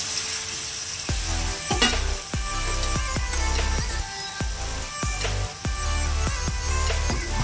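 Loitta fish slid into hot oil in a pan sets off a loud, steady frying sizzle that fills the whole stretch, with sharp clicks and pops breaking through it at intervals.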